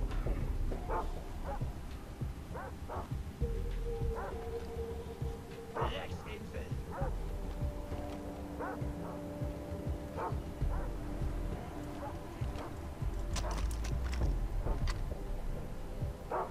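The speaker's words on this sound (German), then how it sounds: "während die Hunde da vorne rumrennen" Dogs in the game Far Cry 3 yip and bark in short, scattered bursts, moderately distant, over steady outdoor game ambience while someone talks over it.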